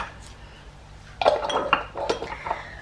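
A spoon scoops creamed horseradish into a bowl, giving a few close clinks and scrapes of metal on crockery over roughly two seconds after a quiet start, with no voices.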